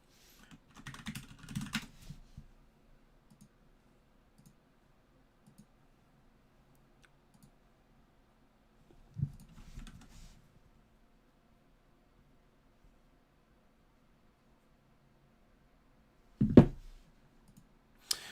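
Short bursts of typing on a computer keyboard while resetting a password, quiet clusters of key clicks separated by long silent gaps, with a louder thump near the end.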